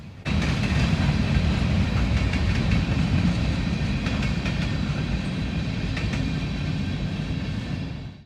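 A freight train locomotive rolls past at close range as the light fades, giving a loud, steady rumble with rhythmic wheel clatter that holds for several seconds and then cuts off.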